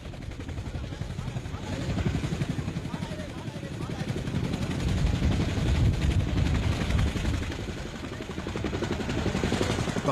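A helicopter packed with more than a hundred evacuated refugees, built for 50 passengers, drones with a steady low rotor thrum throughout, heavy and continuous, with indistinct voices faintly mixed in.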